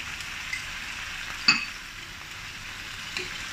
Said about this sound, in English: Stir fry over high heat for about 20 seconds.